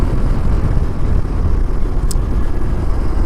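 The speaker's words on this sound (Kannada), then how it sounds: "ಈಗ ಗಾಡಿ ಅದ್ರ ಸೌಂಡ್ ನೋಡ್ರಿ ಹೆಂಗೈತೆ ಹೇಳಿ ಡಿ ಬಿ ಕಲರ್ ತೆಗೆದ ತಕ್ಷಣ ಫುಲ್ ಸೈಕ್ ಐತೆ ಸೌಂಡ್" A motorcycle with its dB killer removed, out on a ride near Hampi, gives a loud, raw, continuous engine rumble that holds steady throughout, close by and with no voices.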